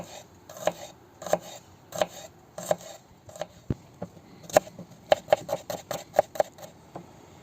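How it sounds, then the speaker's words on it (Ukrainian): A knife cuts onion into half-rings on a board, making crisp, close chops, first spaced evenly and then in a quicker, irregular run, with no one speaking. "нарізаємо напівкільцями цибульку"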